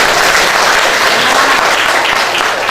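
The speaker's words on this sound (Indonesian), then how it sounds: "Tepuk tangan untuk teman-teman kita." A classroom of students applauds their classmates during an Indonesian language lesson, a loud, dense and even burst of many hands clapping at once, close and sustained throughout.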